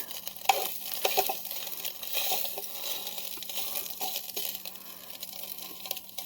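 Sausage slices frying in a military mess tin over a camping stove outdoors, a steady close sizzle and crackle with small scraping and tapping sounds, no talking.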